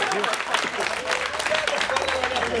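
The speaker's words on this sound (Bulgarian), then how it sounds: "Аплодисменти за колегата!" Wedding guests clap for the man who opened the champagne, a dense wash of hand claps filling the room at steady volume, with voices mixed in under the clapping.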